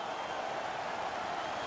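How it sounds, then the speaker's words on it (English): A distant, steady roar of a home crowd cheering at an NHL 19 hockey game, a continuous wash of noise with no distinct claps or voices. "The home crowd is ecstatic. They're making all kinds of noise."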